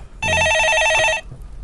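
An incoming call on a telephone in a broadcast studio rings as a single loud, trilling electronic ring lasting about a second, then stops, leaving quiet room noise.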